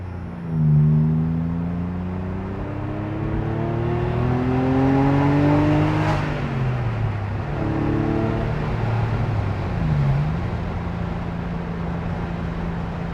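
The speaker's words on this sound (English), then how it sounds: "That beautiful Fab-Speed exhaust gives off a few little pops and crackles when you're on the D-cell." 1995 Porsche 993 Cabriolet with a Fab-Speed exhaust driving, its engine note rising and falling through gear changes, loud and close with a smooth revving rumble.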